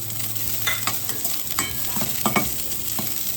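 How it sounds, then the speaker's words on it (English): Garlic and onion fry in a hot pan for a tempeh dish, a constant close sizzle with frequent scraping clatters of stirring, no voices heard. "So these go in, the garlic and the onion. It's a very hot stove"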